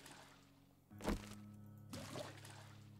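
Water being placed in the survival game 7 Days to Die, two short splashy pours with a soft thunk over a quiet steady background hum.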